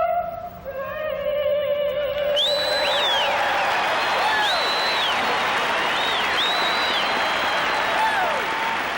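A large stadium crowd at the 1985 World Series applauds and cheers singer Melba Moore after the national anthem, a loud, sustained roar of clapping with whistles rising over it as the final sung note ends.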